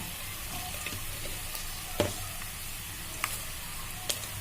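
Peanuts, urad dal, mustard seeds and cumin seeds fry in hot oil with a steady, close sizzle. A few sharp scrapes and clinks of stirring cut through it, and no one talks.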